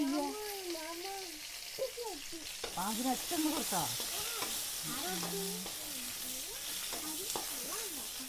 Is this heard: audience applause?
no